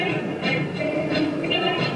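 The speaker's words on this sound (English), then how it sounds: "So if I try to reconstruct just the audio, original audio itself from magnitude spectra, it sounds like this." Song audio rebuilt from magnitude spectra alone comes out warbled and smeared, a steady wash of music with wavering, blurry tones and no clear attacks, playing alone for about two seconds.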